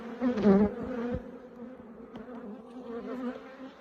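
Honey bees buzz near the open hive during a walk-away split: a close, dense, droning hum with a louder pass early on, then a steadier, softer buzz, with no talking.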